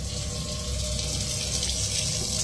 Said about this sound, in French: Le robinet s'ouvre tout seul, sans que personne ne soit visible à proximité.